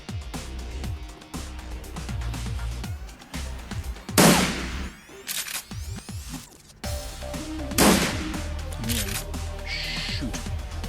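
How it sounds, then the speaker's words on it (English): Gunfire in the turn-based game Shadowrun Returns, a couple of sharp loud shots amid game music and effects, with a player talking over parts of it. "See if you can shoot this thing."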